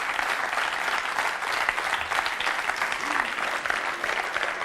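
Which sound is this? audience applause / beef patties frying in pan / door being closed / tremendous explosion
audience applause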